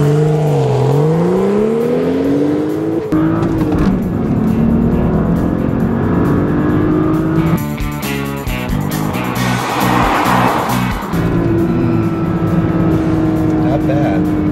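A 2012 BMW 335i in sport mode accelerates hard from 0 to 60 mph, its engine rising loudly through gear changes with brief shifts in pitch, the roar sustained close to the car throughout.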